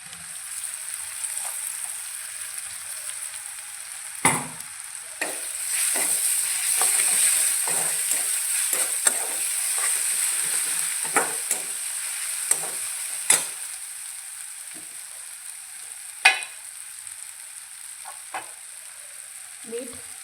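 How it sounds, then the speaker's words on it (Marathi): Onion frying in oil with curry leaves, turmeric and ground spice paste, a steady close sizzle broken by repeated spoon scrapes and stirring knocks against the pan throughout. "कांदा भाजून घ्यायचा. कढीपत्ता, हळद, आपलं हे बारीक केलेला मसाला,"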